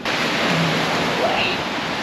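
Ocean surf at a beach in Mexico: a steady, loud wash of breaking waves that roars continuously without clear gaps between swells.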